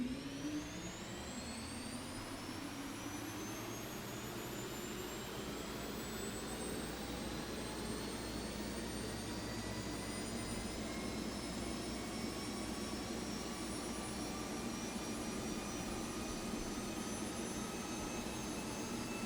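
An aircraft engine starts up in the X-Plane 12 flight simulator and climbs from a low rumble to a steady, loud rising whine that holds for the rest of the stretch, with no talking.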